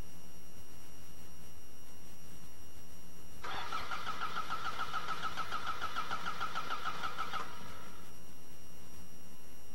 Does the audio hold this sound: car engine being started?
yes